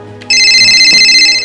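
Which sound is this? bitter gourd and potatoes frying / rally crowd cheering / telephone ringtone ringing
telephone ringtone ringing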